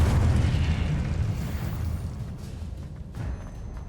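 Incendio fire spell cast in Hogwarts Legacy, a loud whooshing burst of flame with a deep booming blast that slowly tapers off, followed by a few softer thuds.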